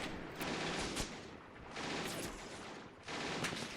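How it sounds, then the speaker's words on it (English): Bursts of German MG 42 machine gun fire in a WWII battle game set at a Greek bridge crossing in 1940, three dense sustained volleys with brief gaps, loud and close, no voices over them. "Germans opening up with their MG"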